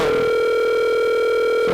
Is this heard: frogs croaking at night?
no